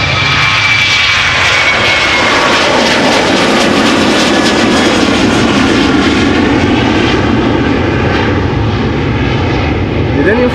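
Jet airliner taking off from Amsterdam Schiphol Airport, heard up close as a loud, sustained engine roar that fills the whole stretch, with a brief high whine early on and the rumble slowly shifting as the plane climbs away.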